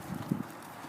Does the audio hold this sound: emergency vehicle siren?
no